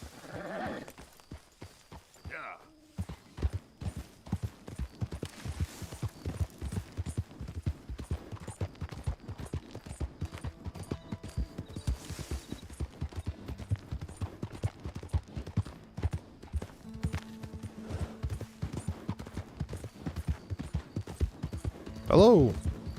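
Steady clip-clopping hooves from a galloping horse in Red Dead Redemption 2, rapid and even, running nearly the whole time with a brief whinny near the end.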